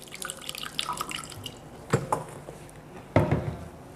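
Kangen water is poured to make tea, with a light trickle, drips and a few sharper splashes and clinks up close and fairly quiet.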